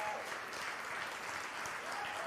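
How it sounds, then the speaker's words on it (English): Applause from a congregation at a Sunday celebration service, a steady even wash of clapping filling the whole moment at moderate distance with no clear voices over it. "Give yourself a round of applause"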